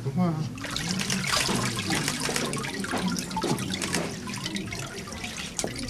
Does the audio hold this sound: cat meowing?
no